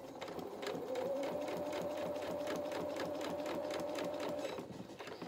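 A sewing machine runs steadily, stitching a dress's facing to its lining, a close, continuous mechanical whir with rapid needle clatter that starts and ends softly.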